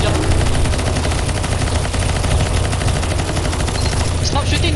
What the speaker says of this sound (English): Stop shooting the zombie, Laroi, the fuck is wrong with you?